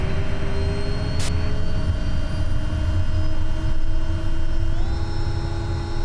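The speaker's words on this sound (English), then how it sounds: "Taxi to the runway and take off" The propeller engine of an SWS Kodiak in MSFS 2024 drones loud and steady through takeoff, its tone holding even and then stepping up in pitch near the end, with no talking.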